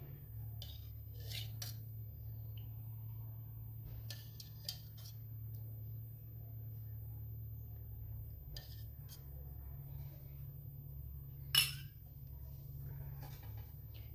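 Spoon mixing a radish and carrot salad with yogurt, salt and coriander in a bowl: soft intermittent clinks and scrapes of metal on the dish over a low steady hum, faint and close, no talk.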